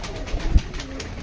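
Pigeons gathered for feeding coo softly close by, a low burbling call over a light outdoor background, with no talk over it.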